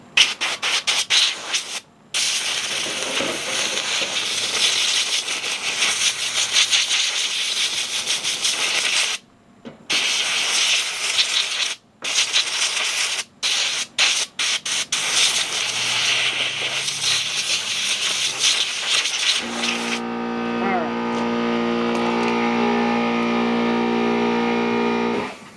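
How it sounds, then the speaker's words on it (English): Compressed air blows dirt off parts around the gas tank and fuel pump of a 1997 Chevy Blazer 2-door in loud, hissing blasts with brief pauses, then gives way to a steady tonal machine hum. "She's using some compressed air."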